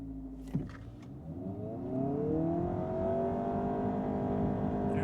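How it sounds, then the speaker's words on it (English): A 2026 Honda Prelude hybrid with CVT revs up and pulls away hard from a standstill, gas engine running, its pitch climbing steadily as it accelerates, loud and close, with no talking. "I'm going to brake throttle it to make sure the gas engine is on from the word go"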